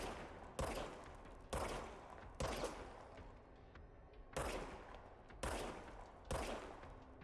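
Repeated single gunshots in the action game Control, seven loud sharp blasts spaced about a second apart with short echoing decays, no talk over them.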